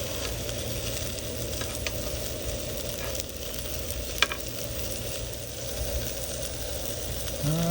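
Pompano fish frying crispy on a hot griddle, giving a steady, dense sizzle that runs without a break, with one faint tap partway through.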